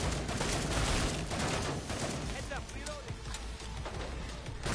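Steady gunfire from Killing Floor 2 rattles through dense game noise, a busy wash of shots and effects with no clear gaps between bursts.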